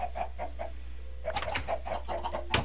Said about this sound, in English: Ah, chickens.